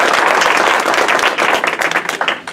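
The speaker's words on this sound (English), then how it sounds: "please welcome our participants with a round of applause" An audience at a candidate debate gives a loud, dense round of applause, steady massed clapping close and full that thins slightly toward the end.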